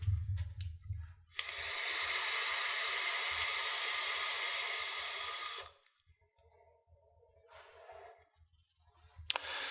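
A Kangertech CUPTI vape with a 0.5 stainless steel head in temperature control mode at 420 degrees is drawn on for about four seconds, a steady airy hiss, followed by soft breathing and faint exhales and clicks.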